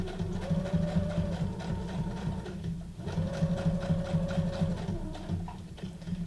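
A sewing machine runs steadily with a continuous mechanical whir, stitching book pages into junk journal envelopes, quiet and close with brief changes in pace.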